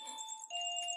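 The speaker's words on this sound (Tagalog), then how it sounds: "Yung doorbell." A two-tone doorbell chime rings out clearly, a steady high tone that drops to a lower tone halfway through, close and alone with no voices.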